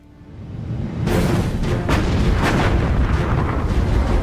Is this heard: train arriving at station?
no